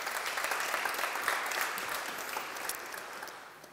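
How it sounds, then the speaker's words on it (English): A business audience applauds at a Chamber of Commerce event on electric mobility, dense steady clapping that is fairly distant and soft, fading slightly toward the end. "I think we can give them a big applause"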